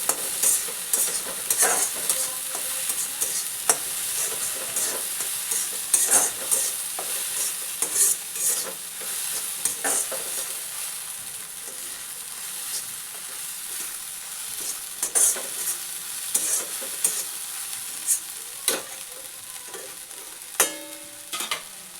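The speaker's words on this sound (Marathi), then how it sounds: "मीठ घातल्यानंतर पुन्हा एकदा परतवून घेऊ" Onion and salt are stir-fried in a pan: a continuous sizzle with repeated scraping and tossing of a spoon, close and steady for over twenty seconds, with no voices.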